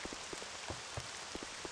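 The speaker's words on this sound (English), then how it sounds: "But I guess it is raining outside," Rain falls outside in the online World War II game Battleground Europe, a steady faint hiss broken by scattered soft drops.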